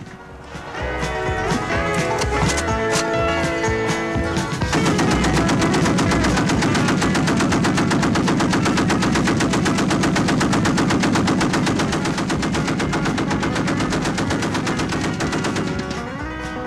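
Machine gun loaded entirely with incendiary and armor-piercing incendiary rounds fires long sustained bursts at an outdoor 1986 combat shooting match, a dense, loud, rapid rattle that runs almost unbroken throughout.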